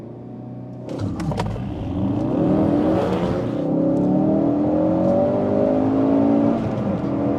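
Ford Focus RS launching hard from a standstill using brake boost, the engine note surging and climbing through the revs in a loud, sustained run of acceleration with no talk over it.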